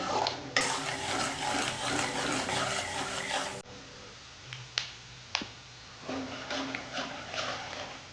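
A spoon stirs and scrapes peanuts and roasted split chickpeas around a hot pan, with a loud rushing hiss early and scattered sharp clicks and taps afterward.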